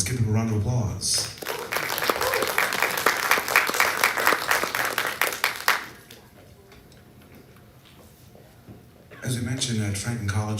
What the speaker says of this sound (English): Team one. Let's give them a round of applause.